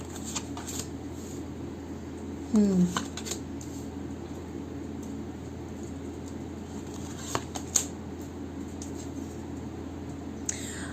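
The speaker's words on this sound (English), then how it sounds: "I'm going to shuffle one more time." Soft papery riffling of tarot cards being shuffled, a few brief bursts and light taps over a quiet room hum.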